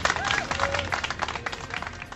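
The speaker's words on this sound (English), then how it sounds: "Let's have a serious round of applause here" Studio audience applauding at a live talk show, a dense burst of clapping that flutters unevenly and thins toward the end, with a voice speaking briefly at the start.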